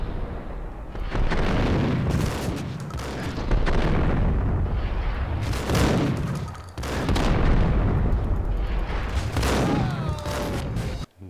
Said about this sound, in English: I'll just use my shotgun.